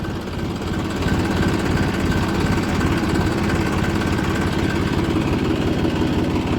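A tractor with a rotavator attached idles with a steady, low, throbbing rumble that is loud and close and continues evenly throughout.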